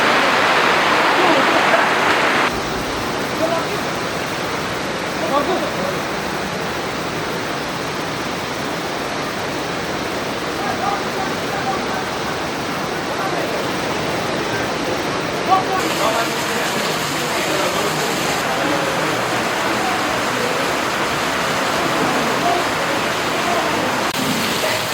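Heavy rain pours steadily on an outdoor concert site, a dense, loud and continuous hiss that holds evenly throughout, with faint talk underneath.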